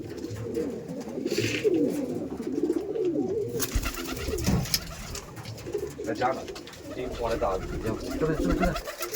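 Madrasi pigeons coo in low, soft repeated calls, close by under steady talk from people at a pigeon sale.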